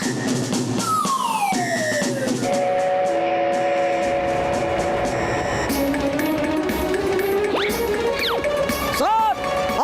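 A cartoon train approaches with shrill whistle blasts and wailing, siren-like tones that rise and fall over a rumbling bed, building in loudness toward the end.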